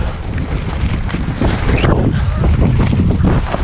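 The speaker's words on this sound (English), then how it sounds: "wait for this gust to stop" A strong wind gust in a 50+ mph storm at Lake Powell roars and buffets across the microphone, loud and continuous, with a rushing surge building midway through.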